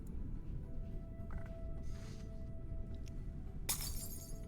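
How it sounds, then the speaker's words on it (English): A glass bottle smashes against a rock in a video game, one sharp bright shatter bursting late over a steady low rumbling background, with faint small clicks before it. "Can we not smash the bottle on the rock?"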